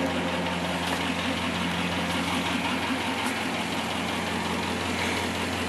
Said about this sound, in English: stainless exhaust, which sounds really cool. Of course, dual stainless exhaust.